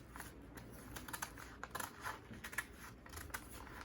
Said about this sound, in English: And then I'm going to cut out the front neckline.